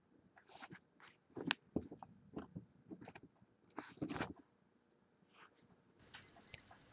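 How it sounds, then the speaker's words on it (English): Casio 3240 digital watch alarm, a short burst of high electronic beeps near the end, after several seconds of soft handling and rustling noises. "the alarm will ring at the time that you set"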